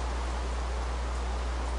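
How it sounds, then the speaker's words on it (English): Steady rain in a video game, a dense, even hiss with a low rumble beneath, continuous and unchanging throughout with no voices. "I sit through this rain."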